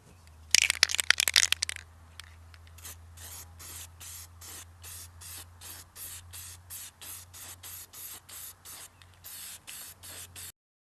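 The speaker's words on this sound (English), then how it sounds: "So let's get that white backer sprayed so we can see the final product." An aerosol can sprays a white backer coat onto the inside of an RC car body, starting with a rattly burst and then a long run of short, evenly spaced hissing puffs, close and alone.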